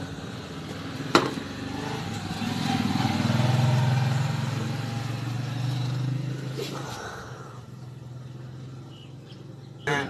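A Yamaha Mio Soul scooter with a hard-starting fault and its cylinder head cover removed, cranking and catching into a rough low engine note that holds for several seconds then dies out, with a sharp click at the start and a person talking nearby.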